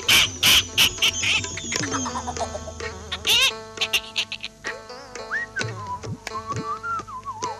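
Cartoon chickens clucking in a lively, choppy burst of squawks and tonal calls, loud and close, mixed with whistle-like chirps and pitch slides, with no talk over them.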